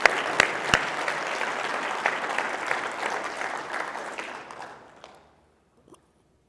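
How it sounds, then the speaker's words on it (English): An audience claps loudly and steadily for several seconds, then the applause quickly dies away into near silence. "So I want to give a round of applause to Anthony for putting on the most badass pa"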